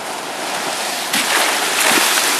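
Water surges against a flood levee system of boxes, making a loud rushing wash that swells suddenly partway through and continues as churning surf, with no voices.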